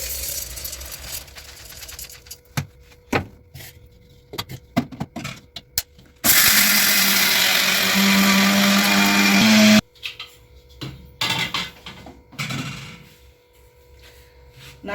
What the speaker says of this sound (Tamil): மிக்ஸி ஜாரில் போட்டு பவுட்ரு பண்ணிக்கலாம்.